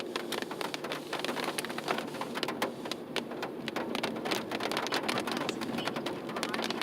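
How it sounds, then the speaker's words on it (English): Rain falls during a January ice storm, with melting snow dripping from trees; a dense, steady patter of drops fills the whole stretch, with many sharp close individual drips standing out. "It just started raining out of nowhere."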